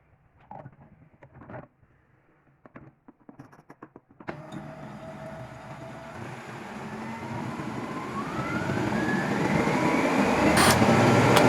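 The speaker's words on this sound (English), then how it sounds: "Add half liter milk and blend it again." A kitchen blender works through milk and apple for a smoothie. Light handling clatter comes first, then the motor kicks in with a whirring whine that grows steadily louder and fuller to the end.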